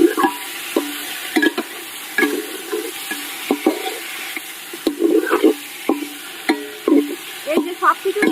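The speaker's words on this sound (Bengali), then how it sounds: "এই যে সব কিছু ভালো করে একদম নেড়ে নিলাম।" Marinated chicken for a country-chicken polao is stirred with bay leaves, dried chillies and whole spices, frying in oil in a pot. Repeated scraping strokes of a spoon against the metal sound close and loud over a constant sizzle.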